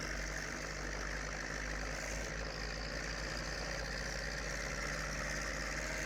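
A tractor engine in Farming Simulator 19 drones steadily at a constant idle-like pitch, a low, even hum that carries on without change, with no voices.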